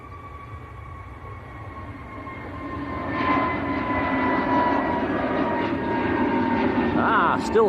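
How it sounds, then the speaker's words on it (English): An EasyJet Airbus A320neo bound for Hurghada rolls down the runway at Manchester Airport. The engine whine and roar build in loudness, with tonal whines rising over a broad rumble. "EasyJet to Hurghada on the roll."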